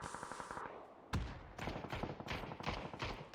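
Gunshots in a battle royale video game match, with several sharp shots and quick bursts at a fairly quiet level after a steady mechanical rattle at the start, and no talk over them.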